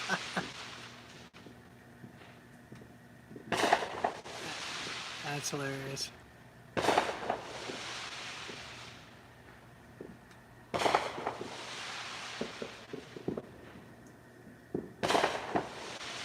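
Distant fireworks from a show thump and crackle in several separate bursts spread across the stretch, faint and muffled outdoors, while people talk and laugh nearby.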